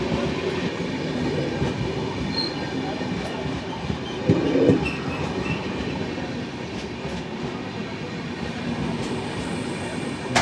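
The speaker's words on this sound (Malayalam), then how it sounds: "12 സ്ലീപ്പർ കോച്ചുള്ള വളരെ റെയറായിട്ടുള്ള ഒരു LHB ട്രെയിനാണിത്." An LHB passenger train with 12 sleeper coaches runs past on a coastal Gujarat line near Okha and Dwarka, a steady loud rumble of rolling wheels continuing throughout with a brief louder knock midway.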